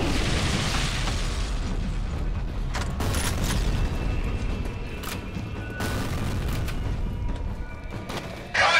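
A grenade blast in the shooter game F.E.A.R.: Perseus Mandate, a loud close boom with rumbling debris, followed by scattered gunfire cracks and clattering mechanical game effects.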